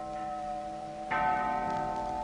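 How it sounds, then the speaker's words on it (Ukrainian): Church bells ring out with a bright, sustained clang that enters abruptly over a background of tonal music and keeps resonating, fairly loud, with no voices. "І вдарили дзвони."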